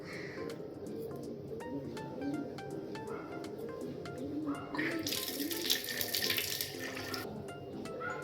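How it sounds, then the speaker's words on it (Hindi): Water from a tap runs into a sink while teeth are brushed in the morning, with a soft trickle that swells into a louder, fuller gush midway, and faint bird calls in the background. "अभी मुझे ब्रश करना है।"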